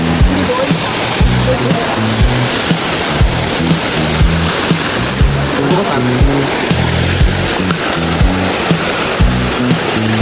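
The rushing roar of Cambugahay Falls in Siquijor, Philippines, a loud, steady wash of falling water that fills the scene, with people talking over it and scattered thumps and knocks.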